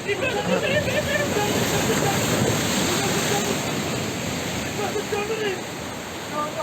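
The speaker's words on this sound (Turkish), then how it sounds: "Bak deniz geliyor gene. Gene deniz geliyor." Sea waves surge against coastal rocks at Çayeli, making a loud, steady roar of churning surf that fades slightly toward the end, with voices audible faintly under it.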